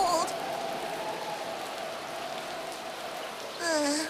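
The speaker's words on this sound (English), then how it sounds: "I've been driven out in the rain" Steady rain falls throughout in an animated cartoon scene on a cold day, a dense even hiss with a brief voice heard at the start and again near the end.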